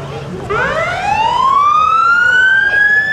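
An emergency vehicle siren winds up from low to a high sustained wail during a parade in Freeport, Minnesota, loud and close, with traffic rumble underneath.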